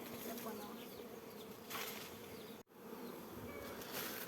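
A dense swarm of honeybees drones steadily around the hive, a continuous close, loud buzz with no speech.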